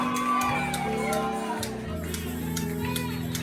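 A church congregation shouts and claps in praise during a Sunday sermon, a loud, continuous mass of raised voices and whoops with sharp hand claps scattered throughout.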